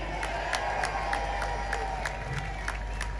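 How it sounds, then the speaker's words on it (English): Rally crowd in London applauding and cheering, a steady roar of many voices with scattered sharp claps and whistles heard from a distance. "Give a round of applause for the pledge if you signed it."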